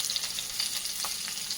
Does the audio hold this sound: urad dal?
yes